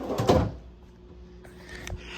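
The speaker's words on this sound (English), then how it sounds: "Drawers slide a lot better in this room also." A hotel room drawer slides with a short rumbling scrape at the start, followed by quieter room tone and a couple of soft knocks as it settles, with no talking.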